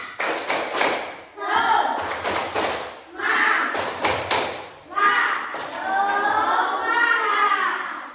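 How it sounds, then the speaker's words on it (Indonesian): Schoolchildren in a classroom perform a rhythmic spirit clap, sharp clusters of claps and thumps in patterned bursts alternating with the group chanting together, loud and close. "Tepuk semangat"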